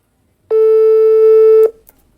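A telephone busy signal sounds during a call to get someone to pick up: one steady, loud electronic tone lasting about a second, alone, then cut off.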